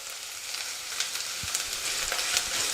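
Chopped onion and ginger garlic paste fry in oil in a home kitchen, a steady close sizzle with light stirring scrapes and scattered crackles, no voices.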